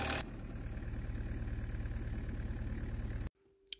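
A Volkswagen Mk2 Golf with a 1.6 turbo diesel engine idles steadily at about 1000 RPM with an even, rapid diesel clatter, close and alone, then cuts off abruptly near the end.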